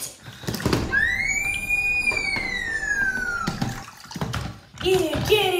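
Bathwater sloshing and splashing in a bathtub as a toy ship is tipped over, loud and close in bursts, with a high rising voice or squeal and other voices in between.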